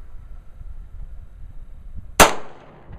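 A single sharp handgun shot cracks at live fire practice after a quiet stretch of low background rumble, ringing out briefly before fading.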